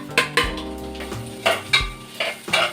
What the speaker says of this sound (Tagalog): So lagay natin ngayon yung palaya para haluin natin dito.